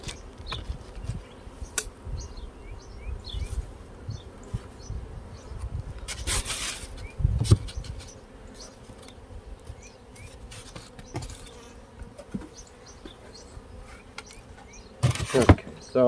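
Honeybees buzz around hives in a treatment-free backyard apiary, a soft intermittent hum near and far, broken by sharp scrapes and knocks of hive equipment being handled.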